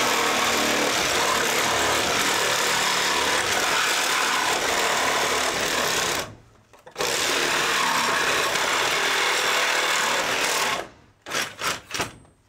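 A reciprocating saw cuts out old wall studs with a loud, continuous rasping buzz. It stops briefly near the middle, then runs on, and ends in a few short bursts.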